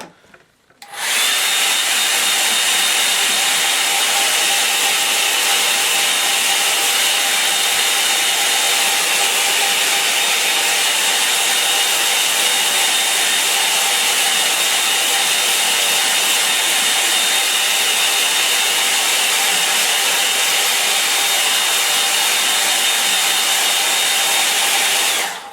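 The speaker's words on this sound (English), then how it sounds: "I'm going to use my hairdryer now" Hairdryer switching on and blowing at full power, a loud, steady, whining rush of air that runs unbroken for about twenty-five seconds, close and alone before stopping.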